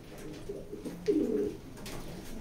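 A racing pigeon cooing close by, a few soft, low throaty coos in a short rhythmic burst over quiet background noise.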